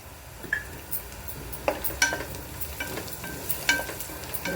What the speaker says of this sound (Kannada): ಅದು ಫ್ರೈ ಮಾಡಬೇಕು ಹಾಗೆ ಗೋಡಂಬಿ ದ್ರಾಕ್ಷಿ ಹಾಕ್ತಾ ಇದ್ದೀನಿ